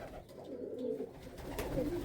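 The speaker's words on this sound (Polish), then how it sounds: "Ci chcę pokazać jak gołąbki karmię." Soft pigeon cooing, a couple of low throaty calls close by, fairly quiet with light background rustle.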